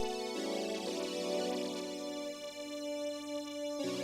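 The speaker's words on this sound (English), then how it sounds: "We can have a horn, we've got a horn on its own." Organ with the horn stop sounding alone: sustained reedy chords held steady and fairly loud with a chord change near the end, no voices.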